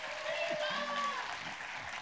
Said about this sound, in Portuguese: Salva de palmas aí para ele.